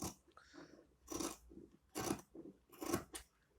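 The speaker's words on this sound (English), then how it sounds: "Now cut the neckline out" Scissors snip through paper, cutting out the neckline of a blouse pattern: three or four quiet, crisp crunching cuts come at a steady pace, close and soft, with nothing else heard.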